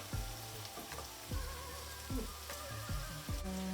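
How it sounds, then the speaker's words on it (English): Peppers and onions frying in a pan, a steady close sizzle with occasional stirring clicks and scrapes, continuous and fairly quiet. "I want to cook these peppers and onions down before I add the beef"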